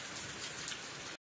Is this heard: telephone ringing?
no